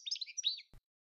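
A goldfinch gives a quick run of bright, high twittering chirps, close and clear against silence, ending with a soft low thump.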